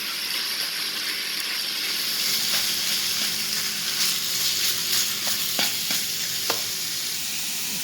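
Minced pork stir-frying in a hot pan, a loud continuous sizzle with occasional spatula scrapes and clinks, close up, no voices.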